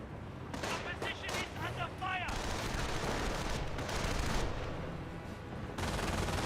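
Anti-tank gun and small-arms fire crackle in bursts during a Company of Heroes battle, a rapid volley followed by a rumbling sustained barrage, moderately loud with a faint voice underneath.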